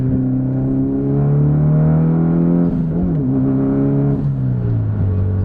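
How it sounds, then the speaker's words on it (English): A Mitsubishi EVO VIII engine drones loud and close through high-RPM pulls, its pitch climbing then dropping sharply at gear shifts twice, heard from inside the car without talk. "we're going to do a few more high RPM shifts and see how it feels"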